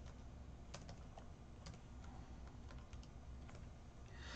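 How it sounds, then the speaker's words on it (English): Keys tapped on a computer keyboard while entering a spreadsheet formula, a quick run of faint light clicks over a steady low hum, close but quiet. "all I need to do here is type"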